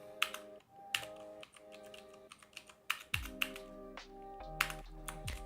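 Rapid clacking keystrokes on a computer keyboard during a coding session, with sharp bursts of clicks and pauses, close and fairly loud, over a faint tonal music bed.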